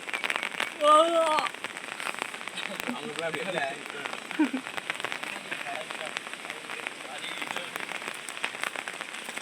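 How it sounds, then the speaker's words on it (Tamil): Steady rain patters across the whole stretch beside the flooded Kadananathi river, a dense broadband hiss with scattered drops, while a voice speaks briefly near the start. "இன்னும் மழை பெஞ்சிட்டு தான் இருக்குது"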